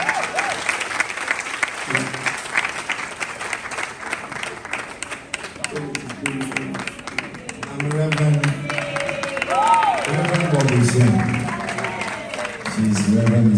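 Applause from a church audience at an Assemblies of God gathering, steady crowd clapping throughout, swelling louder in the second half while a voice speaks and sings over it.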